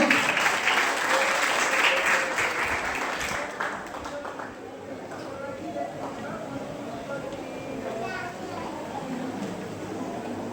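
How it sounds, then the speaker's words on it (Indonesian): Congregation at a public Christmas celebration applauds, a loud burst of clapping for a few seconds that fades into murmuring voices and children's chatter. "Beri tepuk tangan dulu dong Bapak Ibu."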